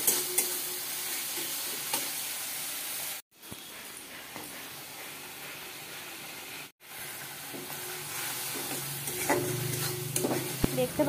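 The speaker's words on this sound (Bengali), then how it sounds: "তো দেখো আমি মশলাটাকে খুব ভালো করে কষিয়ে নেব" Spice paste with ginger and cumin frying in a pan for a potato and cauliflower dish, a steady close sizzle under repeated stirring and scraping strokes, broken by two brief silent gaps, with no talking.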